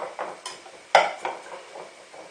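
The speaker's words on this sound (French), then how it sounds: "On va continuer rapidement à mélanger." Béchamel sauce being stirred in a pan as milk is added, a utensil scraping and knocking against the metal in quick irregular strokes, close and fairly soft, with no talk.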